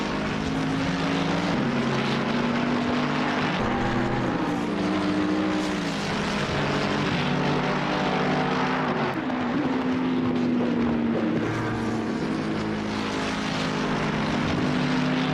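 A Mercedes AMG GT3 racing car engine in a video game drones steadily at Oulton Park, its pitch rising and falling through gear changes, continuous and loud without speech.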